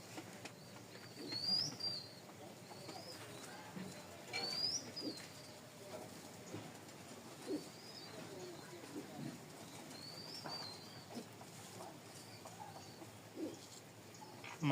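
A breeding pair of Cream or Tamlar pigeons kept as Rajshahi flying Giribaz stock coos softly in bursts over quiet background, with a few brief wing flaps, and no one speaking.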